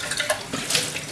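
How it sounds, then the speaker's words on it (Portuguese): Water flows from a kitchen tap at medium flow for rinsing, a short, close, continuous splash into a sink. "Importante que a gente não abra a torneira muito, podemos colocar um fluxo médio"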